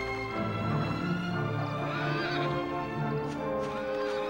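A horse in the video game Dragon Quest 8 neighs, a loud, close whinny with rising and falling harmonic cries, set over a steady background of game sound.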